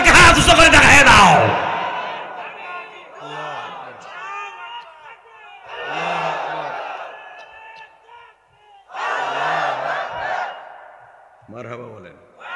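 A large crowd at a religious sermon roars the Nara-e-Takbir slogan in repeated loud collective shouts, alternating with a preacher's amplified voice speaking between the chants.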